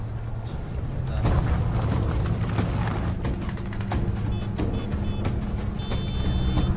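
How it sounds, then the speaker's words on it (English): Vehicle horns beep in short bursts over a rumbling engine and road noise, several toots spread out amid the steady drone. "I think these dudes are beeping their horns."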